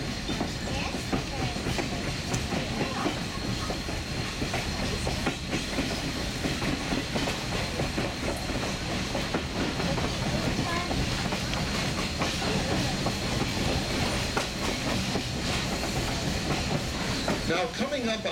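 An Essex steam train rolls steadily along, its first-class parlor car filled with a constant rumble and rhythmic clickety-clack of wheels on rails, the loud, unbroken ride noise sustained throughout.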